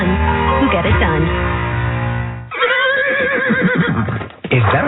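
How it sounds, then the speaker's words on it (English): A wild stallion lets out a loud, close whinny that rises and trails off, then another brief neigh follows. A voice talks over part of it. "Is that a horse? Actually, it's a wild stallion."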